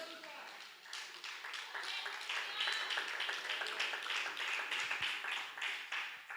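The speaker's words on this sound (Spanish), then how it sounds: "Puede sentarse y dar un aplauso a Jesús." A church congregation claps together in praise, a dense patter of many hands that swells and holds at moderate loudness, with voices mixed in through it.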